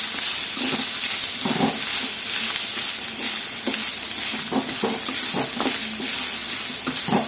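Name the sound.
coconut and spices frying and being stirred in a pan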